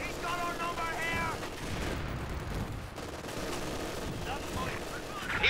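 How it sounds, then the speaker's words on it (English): Enemy machine gun fire in Company of Heroes 2, on the La Gleize map, rattles in bursts along with heavy battlefield gunfire and blasts, while soldiers' voices shout over the din. "Enemy machine gun!"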